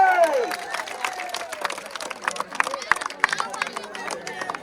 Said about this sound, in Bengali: জোরে তালি হবে